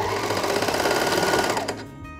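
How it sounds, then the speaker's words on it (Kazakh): An overlock sewing machine stitches fabric in a fast, loud, continuous mechanical whir, then winds down and stops near the end. "оверлокқа тағы да тігіп аламыз"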